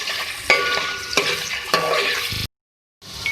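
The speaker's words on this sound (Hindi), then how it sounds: "अब इसके अंदर मैं इसको ऐड करूँगी। इसको फ्राई करेंगे।" Beef and potato pieces being fried and stirred in a pan, a steady close sizzle broken by sharp scraping stir strokes and a brief silent gap, no talk.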